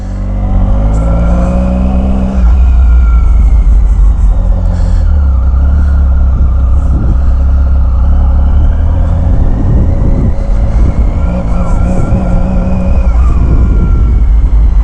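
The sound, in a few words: Triumph Speed Triple R 2016 motorcycle engine starting and revving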